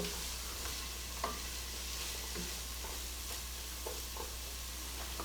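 Ingredients for chicken rice soup sauté in a pot, giving a faint steady sizzle over a low hum, with a few soft spoon scrapes and no voices.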